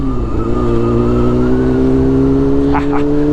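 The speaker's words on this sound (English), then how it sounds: "Look at that truck." A truck's engine hums loudly and steadily nearby, a sustained low drone with slowly shifting pitch, heard from within or beside a passing vehicle on a road near the beach.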